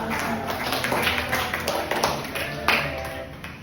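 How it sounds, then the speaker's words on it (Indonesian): Classroom clapping from a group of students, a busy patter of overlapping claps that carries steadily throughout, with voices mixed in. "Ya, tepuk tangan untuk kita semua."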